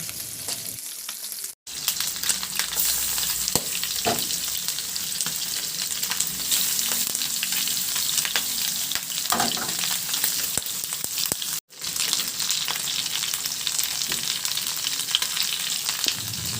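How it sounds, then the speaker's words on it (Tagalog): Garlic sautéing in a little hot oil in a pan, a steady, bright sizzle that runs almost continuously, broken by two brief drops when stirred. "Diyan na rin tayo magisa ng ating bawang."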